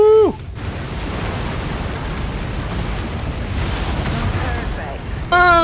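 A generator blows up in MechWarrior 5, a big roaring blast of broad rumbling noise that holds steady for about five seconds, opening and closing with short bursts of game tones.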